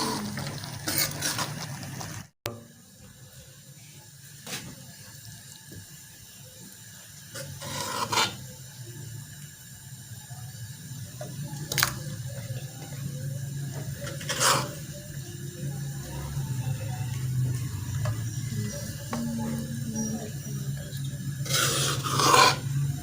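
Vegetable noodles scraped from a pan with a utensil, giving a near rasping and rubbing texture in scattered strokes and louder bursts over a low steady hum, with no talk.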